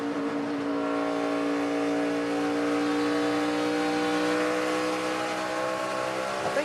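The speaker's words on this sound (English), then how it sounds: "And then there's Kenseth, the purple car, and then this race for fifth and sixth" NASCAR race cars roar around the track at the 2011 Hollywood Casino 400, a loud continuous engine drone with sustained high whine throughout.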